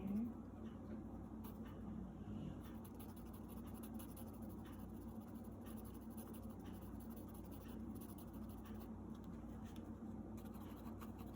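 Pencil drawing on paper, a faint continuous scratching and soft strokes against a quiet background hiss, close and steady throughout.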